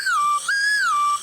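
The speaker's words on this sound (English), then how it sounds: "Do you remember Whistling Pops?" A Whistling Pop candy whistle is blown twice in quick succession, a clear, loud tone sliding down then up in pitch, close by with no talk.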